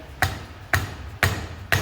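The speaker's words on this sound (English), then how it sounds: "you're going to take your dead blow soft face, like a mallet or a dead blow soft hammer" Four sharp taps of a dead blow soft-faced hammer striking a valve spring retainer on a cylinder head, evenly spaced about half a second apart, close and distinct with quiet between them.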